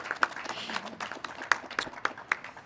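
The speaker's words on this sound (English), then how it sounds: "He deserves a big round of applause." Scattered audience applause honoring Alain Gauthier at a livestreamed event for a combined sewage storage tunnel, thin and uneven, with distinct individual claps standing out over a soft background.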